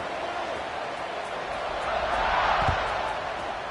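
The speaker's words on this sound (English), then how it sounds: "this crowd is buzzing after that last score" Crowd buzzing in a video game football match after a score: a steady, distant roar of stadium noise that swells briefly, with no clear speech on top.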